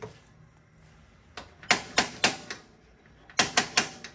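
Electronic ignition on an RV gas stove burner in a 2022 Forest River Rockwood Signature 8335SB, giving sharp, close clicks in two short quick bursts of three or four clicks each, separated by a brief pause.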